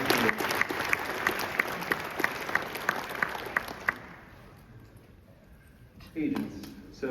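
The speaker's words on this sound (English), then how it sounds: "I'd just like a big round of applause for Joel" Audience applause at a tech conference session on AI automation: steady clapping that dies away midway, with a voice speaking over it and resuming near the end.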